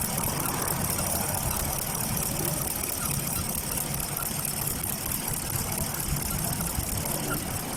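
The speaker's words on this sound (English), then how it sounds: "It's a multiple misfire, cylinder misfire." A Chevrolet Caprice engine idles with multiple cylinder misfires and no spark from the bank 1 coil, giving a steady, rough, uneven rumble close up with no voices.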